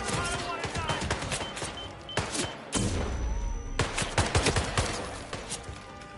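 Video game gunfire, rapid irregular shots and bursts rattling through the clip with a few heavier thuds, fairly loud and close throughout.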